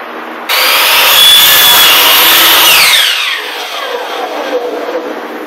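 A power miter saw slices an outside miter through baseboard for a built-in bench, a loud whining cut that starts abruptly, holds for about two and a half seconds, then winds down with a falling pitch as the blade spins out.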